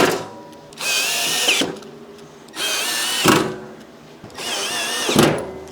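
Power drill driving screws into a UWC2XL shelf unit during assembly, three sustained bursts of loud whirring, each a second or so long, separated by short pauses.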